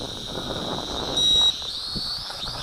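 Wind buffeting the microphone outdoors during an FQ777 918C camera drone flight: a steady rumbling roar throughout, with a thin high whine from the small drone motors above it and no talk.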